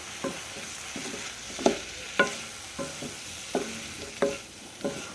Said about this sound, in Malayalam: ലോ ഫ്ലെയിമിലാക്കിയിട്ട് നമുക്കിത് നന്നായിട്ടൊന്ന് വഴറ്റി കൊടുക്കാം.